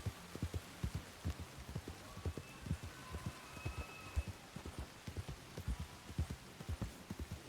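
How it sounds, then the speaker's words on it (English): Steady rain falls across an outdoor scene in the video game Red Dead Redemption 2, mixed with rhythmic hoof clops from a horse moving through the wet ground at a moderate distance. "Oh, that rain, chat."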